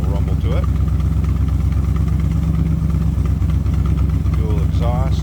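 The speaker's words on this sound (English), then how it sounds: "There's a little throaty exhaust, a little rumble to it." A 1963 Studebaker Avanti R-2 with a four-speed manual and dual exhaust runs with a steady, throaty low rumble, heard close and continuous, while faint higher chirps drift over it.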